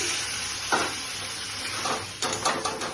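Water poured into a hot pan of chichinga (snake gourd) curry with mustard sets off a burst of sizzling and crackling, flaring twice in short loud surges over a steady frying hiss.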